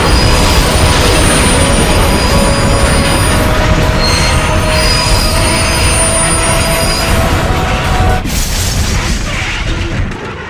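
A loud, steady metallic screech of train wheels squealing under braking, with a rumbling undertone, continues for several seconds before tapering off.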